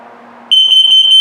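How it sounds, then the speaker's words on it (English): A low murmur gives way to a loud, piercing electronic tone from a smoke alarm self-test in a 2021 CrossRoads Sunset Trail 253RB travel trailer, sustained with slight flutter until the end. "So I'm going to put it through the self-test so you can hear it."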